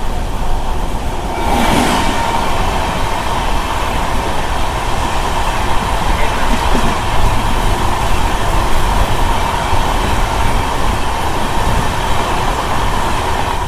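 The Pinakini SF Express, an LHB-coach passenger train, runs along the main line, with a loud, steady rumble and rattle of the wagons heard from on board throughout.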